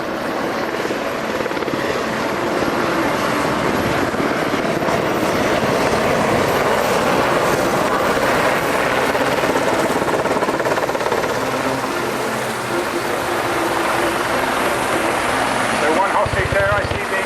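Military helicopters, including a Sea King, thud and roar continuously and loudly throughout at an air show finale, a heavy sustained drone close by, with speech faintly underneath.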